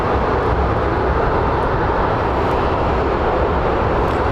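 A heavy airliner at Phoenix Sky Harbor International Airport gives off a loud, constant jet engine roar close by, steady and unbroken throughout.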